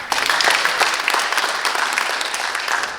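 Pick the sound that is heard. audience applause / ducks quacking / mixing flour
audience applause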